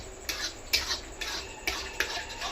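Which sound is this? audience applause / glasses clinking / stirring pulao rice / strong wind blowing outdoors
stirring pulao rice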